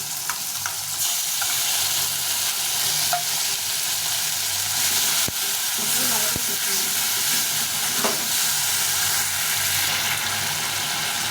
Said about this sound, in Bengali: আর আদা জিরে লঙ্কা বেটে রেখেছিলাম এটা দিয়ে দেবো, দিয়ে কষিয়ে নেব।